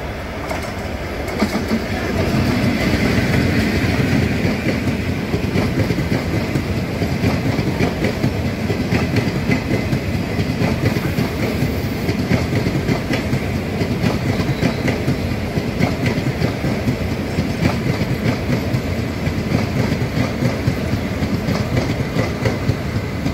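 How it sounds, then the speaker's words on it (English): An express passenger train arrives at Kanjangad railway station, rolling steadily past nearby, wheels clattering rhythmically over rail joints in a continuous loud rumble that builds at the start and carries on. "Here comes the Mangalore Coimbatore Intercity Express that is arriving at Kanjangad Railway Station."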